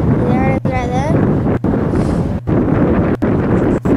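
Strong wind buffeting the microphone in an old outdoor home video, a loud continuous roaring rumble throughout with brief dropouts, a voice heard over it early on.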